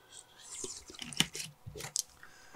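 Close, quiet mouth sounds: small sips of water and wet swallows with soft clicks, intimate and near, between brief pauses.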